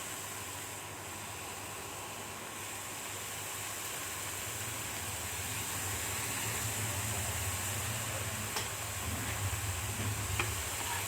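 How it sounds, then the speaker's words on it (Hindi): Dough sweets deep frying in a kadhai of hot oil make a steady, close, broadband sizzle that swells slightly louder as more pieces go in, with a low hum underneath. "अब इसको हमको डीप फ्राई करना है। अब मैं इसको कढ़ाई में डाल रही हूँ"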